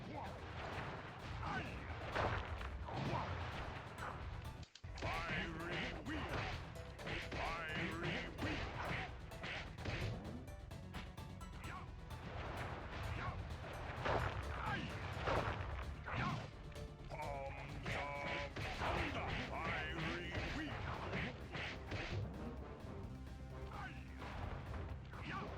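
Fireworks explode over and over in the Sly Cooper video game, a dense, loud, continuous run of booming bursts and crashes with a short gap near five seconds, mixed with game music and voices.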